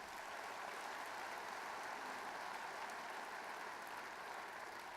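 A large audience claps in a steady, even wash at an agricultural convention, sounding continuous and somewhat distant.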